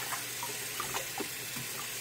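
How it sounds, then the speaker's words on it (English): Hot water runs steadily from a tap into a sink to wash a gas mask, a soft continuous splashing with faint bubbling and swishing, and no one speaks. "So the hot water obviously will cause it to make bubbles."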